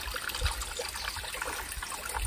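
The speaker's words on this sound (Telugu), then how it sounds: "సో ఫ్రెండ్స్ వాటర్ చూడండి ఎట్లా ఫ్లో అవుతున్నాయి" Water flowing and trickling at a hillside Sri Rama temple in Palodi village, Adilabad, a steady close stream with no voices.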